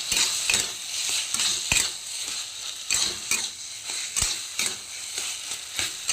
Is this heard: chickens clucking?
no